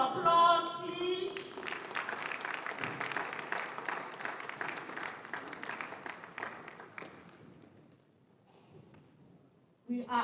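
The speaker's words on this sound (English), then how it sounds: "Another round of applause," Applause from an audience at a live government event, a broad steady patter of clapping that swells, holds for several seconds, then fades to near silence before a voice returns.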